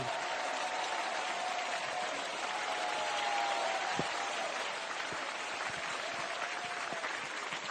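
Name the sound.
audience applause on TV show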